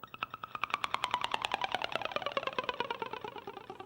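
Electric guitar run through a short delay to mimic a rain stick: a fast stream of bright, repeating plucked notes cascading downward and smearing into a dense shimmering wash, played alone with no talk.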